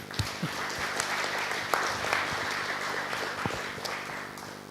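A hackathon crowd claps in a fairly quiet, moderately distant burst of applause, with scattered individual claps and some background murmur in a large event hall.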